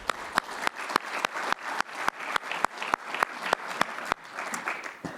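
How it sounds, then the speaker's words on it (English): An audience at a banking conference applauds steadily, dense clapping with rhythmic loud claps standing out, continuing evenly for several seconds. "Great, round of applause."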